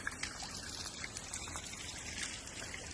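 Water trickles down from a forest slope beside a river, a faint, steady liquid dribble that runs without a break and has no voices over it.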